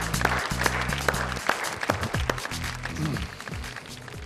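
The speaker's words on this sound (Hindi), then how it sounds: "जोरदार तालियां आपकी।" Loud audience applause welcoming poet Wasim Barelvi onto a Hindi comedy-poetry show stage, dense continuous clapping with low tonal music or hum underneath, sustained for several seconds.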